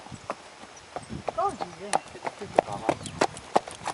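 Hooves of a horse clip-clop in an uneven walking rhythm, close and clear, while people talk over them.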